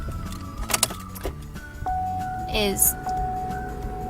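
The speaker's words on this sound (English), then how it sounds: "it beeps, the lights go on, but the car isn't starting, the engine isn't starting" A car that will not start gives off electronic beeps and chimes while its dash lights come on, the tones sounding close inside the cabin amid brief clicks, with a person speaking throughout.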